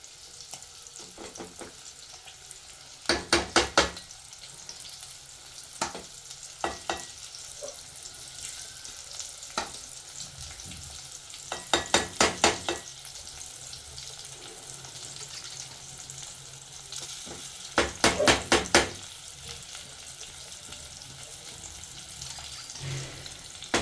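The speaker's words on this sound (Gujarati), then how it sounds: "मरचा ऊँची दीधा है, थोड़ा टाइम चढ़वा देवाना स्लो गैस पर" Gram-flour-stuffed green chillies frying in oil in a pan over low gas, a low continuous sizzle broken by brief bursts of sharper crackling and occasional clinks, with no voices.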